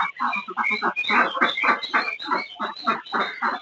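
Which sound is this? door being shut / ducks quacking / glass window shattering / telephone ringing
ducks quacking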